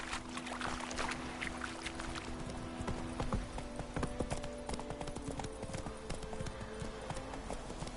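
Hooves of the horse Roach pound in a rapid, continuous gallop in a monster-hunting video game, close and steady, with creaks of tack and a low ambient hum underneath.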